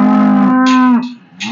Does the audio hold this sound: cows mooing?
yes